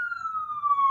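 Ambulance siren, a single clear wailing tone gliding slowly downward, moderately loud and alone over a faint low background.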